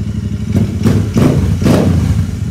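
A Royal Enfield Interceptor motorcycle's exhaust revs up in several deep, close blips over a low, rumbling idle.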